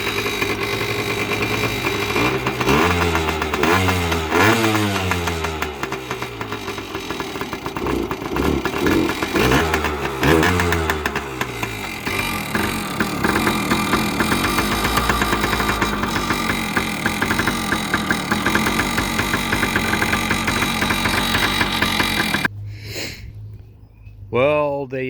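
A carbureted engine runs at idle with uneven revving blips early on, then settles into a steady, loud mechanical drone up close before cutting off near the end, with people talking nearby.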